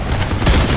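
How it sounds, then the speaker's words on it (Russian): A red barrel blows up amid gunfire in Crossout, a brief loud blast of broadband noise with a low rumbling boom. "Я по нему стреляю, он сразу взрывается"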